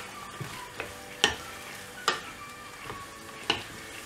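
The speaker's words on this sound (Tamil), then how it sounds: "வேக வச்ச காராமணியை இதில் ஆட் பண்ணிடலாம். இதை நல்லா மிக்ஸ் பண்ணி விட்டுடலாம்." Cooked cowpeas with vegetables (brinjal, drumstick) being stirred in a frying pan: a soft sizzle under a handful of spaced scraping clacks from a spoon against the pan, with no talking.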